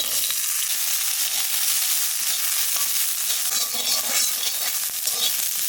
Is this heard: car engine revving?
no